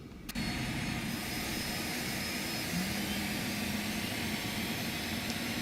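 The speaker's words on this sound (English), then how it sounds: "let's go ahead and start engine number 1" Engine number one of a Phenom 300 business jet spools up during a cross-bleed start, a loud, steady whooshing roar with a faint tone that rises partway through, heard from close by with no talk.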